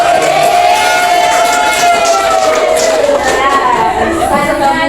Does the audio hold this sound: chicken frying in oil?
no